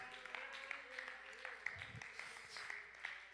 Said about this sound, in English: Clap to the glory of God.